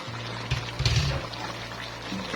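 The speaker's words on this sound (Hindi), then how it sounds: "ये इसमें गई 1 kg शिमला मिर्च जो मैंने काटी थी।" A kilogram of chopped capsicum tumbles into a pot of cooking mutton, a brief close clatter and splash that settles into a low hiss, no voices.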